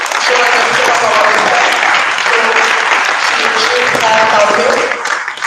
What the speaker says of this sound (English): Let's clap loudly.